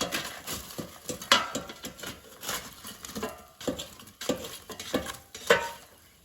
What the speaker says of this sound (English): So let's mix the potatoes.